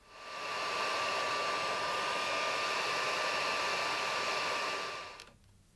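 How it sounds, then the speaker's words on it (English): A handheld hair dryer blows steadily and loudly for about five seconds, heating hot glue on a woodworking project so it comes loose, then cuts off. "grab yourself a hairdryer and heat it up,"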